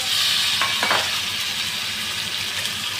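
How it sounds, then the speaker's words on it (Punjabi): Kashmiri chillies hit hot oil in a pan with a loud, steady sizzle and some stirring, alone with no talk. "ਥੋੜੀ ਸੀ ਕਸ਼ਮੀਰੀ ਮਿਰਚ ਬਸ ਹੁਣ ਪਾਵਾਂਗੇ ਜੀ ਵਿੱਚ ਮਿਰਚਾਂ"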